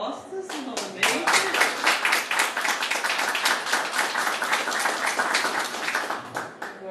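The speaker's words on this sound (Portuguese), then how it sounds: "uma salva de palmas pelas respostas, novamente" An audience at a book presentation claps together for several seconds, a dense continuous burst of applause that rises quickly and holds steady before tapering, with voices mixed in.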